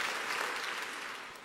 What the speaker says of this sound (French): Vous applaudissez pourquoi?